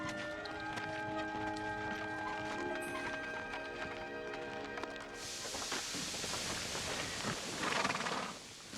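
Horse hooves clip-clop on the ground, probably from a mare with swelling above the left hind cannon, under tonal music that fades out as outdoor noise swells. A loud burst comes near the end.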